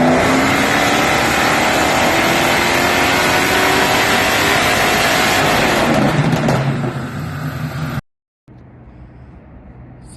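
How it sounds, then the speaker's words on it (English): A Camaro on a dyno revs hard and loud, the engine note climbing steadily for several seconds before backing off, then cutting out abruptly to near silence. A quieter rumble follows briefly at the end. "right here is just a 10-second clip of it on the dyno"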